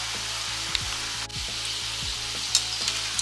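Shakarpara dough frying in oil over a medium flame, a steady close sizzle and bubbling with a few soft clinks, with no voices.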